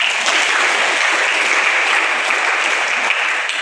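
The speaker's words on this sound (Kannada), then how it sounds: "ನಿಮ್ಮೆಲ್ಲ ಚಪ್ಪಾಳೆಯನ್ನು ನಾವು ಸ್ವಾಗತಿಸ್ತೇವೆ" An audience at a free training workshop on competitive exams applauds with dense, steady clapping that fills the whole stretch without pause.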